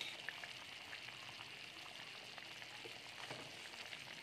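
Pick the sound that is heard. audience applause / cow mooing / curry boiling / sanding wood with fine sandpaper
curry boiling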